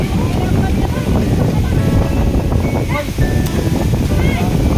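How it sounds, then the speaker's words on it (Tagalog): Strong wind roars steadily across the microphone at a beach with surf rumbling underneath, buffeting and continuous throughout. "Sobrang hangin guys, nakaka-relax."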